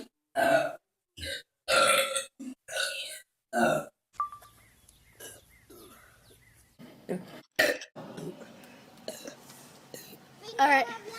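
A teenage girl lets out a string of loud, close, throaty burps in separate bursts, followed by quieter stretches with faint voices and soft background noise.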